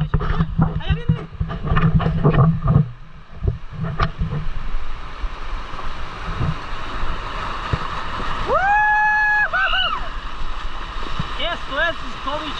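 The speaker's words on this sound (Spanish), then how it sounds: "La mejor crecida del río." A huge flooded river rushes past in a continuous broad roar, with people shouting, talking and whistling over the top of it.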